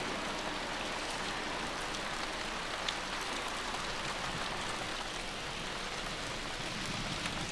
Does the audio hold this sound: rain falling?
yes